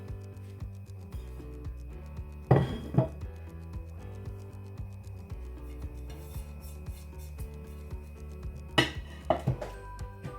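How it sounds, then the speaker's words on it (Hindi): Two kinds of flour, including gram flour, are stirred together in a bowl for roti dough, giving soft repeated rubbing and scraping with a couple of sharper clinks of utensil against the vessel, close and fairly quiet. "इसमें इन दोनों आटों को हम मिक्स कर देंगे"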